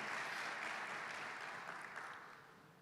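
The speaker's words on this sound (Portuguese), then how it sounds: "Você pode aplaudir o Senhor por isso?" A church congregation applauds during a family worship service, a steady broadband clatter of many hands that holds evenly and then slowly tapers off, with no voices over it.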